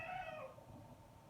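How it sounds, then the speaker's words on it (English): A pet cat indoors lets out one short, grumpy meow near the start, then goes quiet over faint room noise. "my kitty baby is being grumpy because he's inside now"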